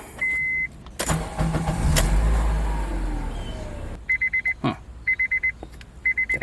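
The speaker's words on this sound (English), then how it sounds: "As soon as you turn on the vehicle," A 2008 Honda CR-V engine starting, a starter crank and catch into a loud idle rumble, followed by a steady run of regular electronic chimes from the dashboard.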